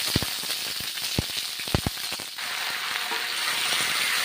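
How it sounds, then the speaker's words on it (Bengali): Cauliflower fries in hot mustard oil with a continuous crackling sizzle and sharp pops and spatters early on, close and loud, with no voices. "ফুলকপিগুলো ভেজে নিচ্ছি গরম তেলে"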